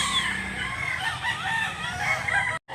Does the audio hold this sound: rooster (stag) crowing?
yes